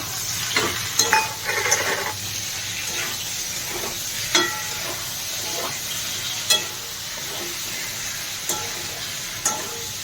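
Chopped tomatoes added to browned ingredients in a hot pan, steady sizzling with repeated scraping and tapping of a spatula as they are stirred, near and fairly loud, no speech.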